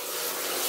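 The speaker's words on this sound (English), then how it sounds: "this water pressure goes up until" Water spraying hard from a Seoul Stone shower head at high pressure, a loud, steady hiss of spray that builds slightly over a brief moment, with no voices.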